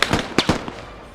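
Short final bursts of machine gun fire in the Squad video game, a few loud, close shots in quick succession that then fade into a decaying echo and ambient tail.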